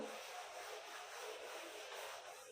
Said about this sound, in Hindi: ये रब भी कर देती हूँ, ऊपर वाला रब करके ऊपर लिखेंगे इनको।